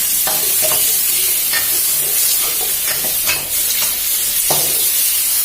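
Straw mushrooms and shrimp stir-fried in oyster sauce and fish sauce over high heat, a loud close sizzle with repeated scraping and clanking of a spatula against the pan.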